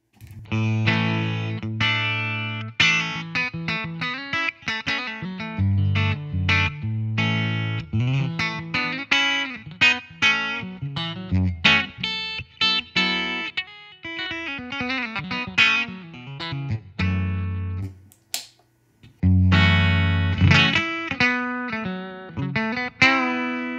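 Electric guitar through a clean hot-rodded bridge pickup plays strummed chords and short riffs with a bright, crunchy edge, loud and up close, pausing briefly before continuing.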